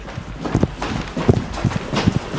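Footsteps sound inside a historic speakeasy: a series of irregular, fairly close thuds and knocks, with no voices.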